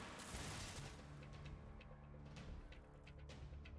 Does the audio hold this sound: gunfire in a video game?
yes